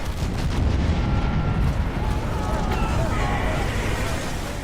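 Loud, continuous rumbling blasts on an oil rig with a dense low roar throughout, close and heavy, like repeated explosions blending together.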